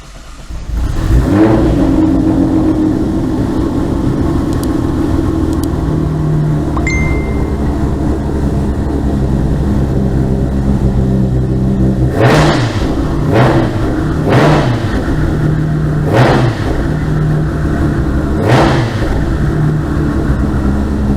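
A Nissan GT-R engine idles with a deep rumble, then revs hard in several sharp bursts, each climbing and falling back, loud and close.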